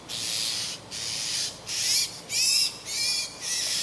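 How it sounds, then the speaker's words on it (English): Birds in a tree outside a window, a blackbird and a few sparrows, giving repeated harsh rasping calls in bursts of about half a second, separated by short gaps, moderately distant and steady. "The blackbird screaming galore, and 2 or 3 sparrows are in a tree"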